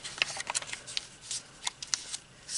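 Origami paper is pushed into a folded pocket and creased, making close, crisp crackles and rustling ticks in quick irregular bursts, with no voices.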